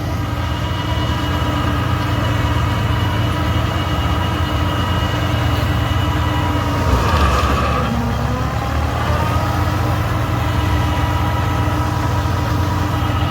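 A tractor engine idles and runs steadily through potato sowing in a field, a loud continuous low rumble with a brief rise in pitch partway through and no speech.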